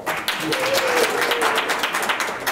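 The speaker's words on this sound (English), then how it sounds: "Crowd goes wild." Indoor track meet audience applauding and cheering a 110-meter high hurdler's introduction, a dense wash of clapping with whoops, steady throughout.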